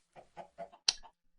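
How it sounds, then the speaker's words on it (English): Minecraft chickens clucking in a video game: four quick soft clucks followed by a sharper squawk, brief and fairly faint, with no talk over them. "I hear chickens."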